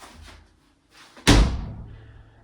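A glass shower door with newly fitted seal strips swings shut in one loud, close thud, preceded by faint handling sounds.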